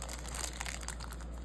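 Crinkly crunching and snipping of a plastic baseball card rack pack wrapper being cut with scissors, close and continuous, with no talking.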